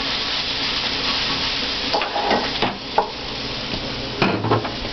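Steady sizzling of food frying in a pan, with a few sharp clinks and scrapes of utensils stirring over the hiss.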